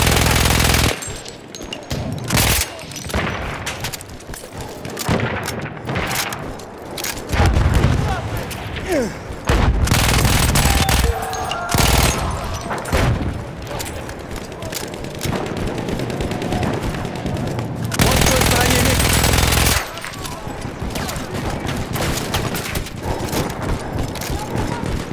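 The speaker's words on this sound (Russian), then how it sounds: "Вражеский пулемет!" Machine guns rattle in long bursts across a Battlefield 1 Conquest battlefield, mixed with blasts and scattered shots, loud and close for most of the stretch, with soldiers shouting in Russian at times.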